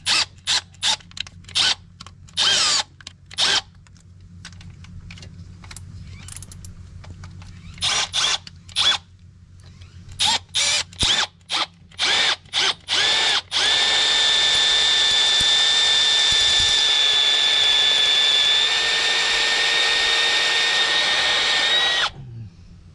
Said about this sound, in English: So as I drill, the swarf's going to come out into that